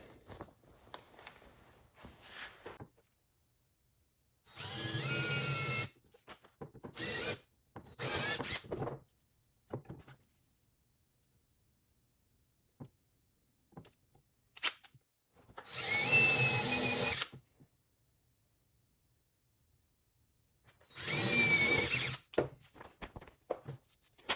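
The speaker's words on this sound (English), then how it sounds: "get these plates lined up and drill the holes" A power drill whirs in several separate bursts, each a second or two long, drilling holes in plates for a 4L80E transmission shift kit, with quiet pauses and small clicks and knocks between them.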